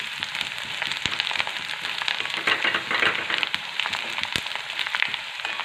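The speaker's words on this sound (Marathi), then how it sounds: "थोडीशी कोथिंबीर ती पण छान तेलामध्ये अशी परतून घ्यायची" Fresh coriander sautéing in hot oil in a pan with onion, cooked for shev bhaji, making a steady, close sizzle dotted with sharp crackles and pops throughout, with no one talking.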